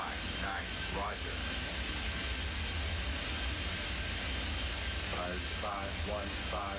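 Jet engines roar steadily through a takeoff on a runway in the airport game Airport Madness 3D, a broad continuous rumble held loud throughout, with bursts of radio-style voices heard over it near the start and end.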